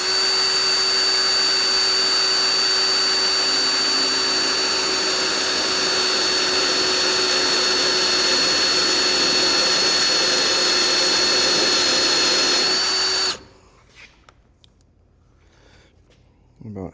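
A power tool runs at wide-open throttle while drilling into a car body to replace a corner cap, a loud steady whine lasting about thirteen seconds before cutting off abruptly, followed by near silence.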